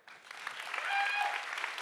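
Audience applause at a science slam, starting soft and swelling into a fuller, moderate round of clapping. A few whoops ring out over it, and it stays fairly faint and distant overall.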